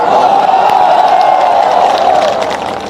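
A big crowd at a Kejriwal rally in Chachaura-Binaganj, Madhya Pradesh, claps and cheers in a loud, steady roar that eases slightly near the end.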